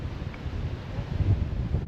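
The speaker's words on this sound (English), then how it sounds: "It's too windy to record anything" Gusty wind buffets a microphone outdoors by a bench, a steady low rumbling roar that swells and dips for two seconds with no talking.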